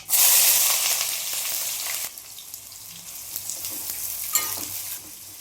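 Onions and whole spices, cinnamon and cloves, sizzle loudly in hot oil in a kadai for a Telangana-style mutton head curry; a strong hiss at first settles into a steady crackle, with occasional stirring and no speech.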